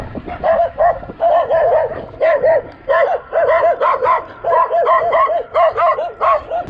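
Dogs beside a high mountain road near Cochabamba, Bolivia, at almost 3800 metres, barking close and loud in rapid repeated bursts with brief pauses, alone.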